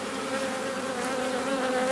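Honey bees buzz steadily and close during a hive inspection, a dense continuous drone with a clear hum throughout and no talking.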